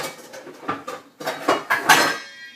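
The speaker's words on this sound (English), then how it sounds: "we're going to put the lid on our soup here" A metal lid clinks onto a pot of broccoli soup: several close, bright clanks and rattles in quick bursts, with brief pauses between them and no talk.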